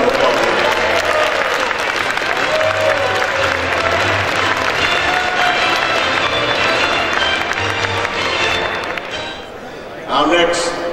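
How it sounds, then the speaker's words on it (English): An audience at a Georgia legislative event applauds honoree Mike Glenn with steady, dense clapping that lasts throughout and swells slightly near the end, with crowd murmur mixed in. "Let's give him a round of applause."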